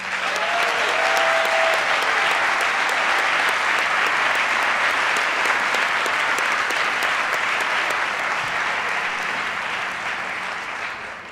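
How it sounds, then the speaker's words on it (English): A large audience at a London hotel awards ceremony gives a sustained round of applause, steady and dense for the whole stretch and easing slightly at the end, with a faint voice briefly audible early on. "I think we should give, to begin with, another round of applause to those fantastic hotels who are 51 to 100."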